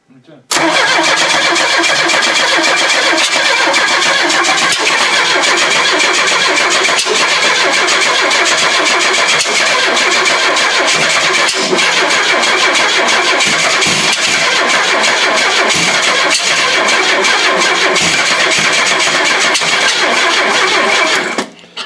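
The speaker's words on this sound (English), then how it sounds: "it's backfiring through the intake" A Buick derby car engine cranks continuously for a long stretch, loud and close, with occasional sharp pops as it backfires through the intake, breaking through the steady grinding.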